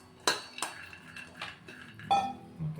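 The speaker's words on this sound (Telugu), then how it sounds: "ఫస్ట్ మనం పల్లీలు వేయించుకోవాలండి" Peanuts are dry-roasted in a pan, producing a handful of light metallic knocks and clinks from a spoon against the pan, spaced irregularly and fairly quiet; no voices.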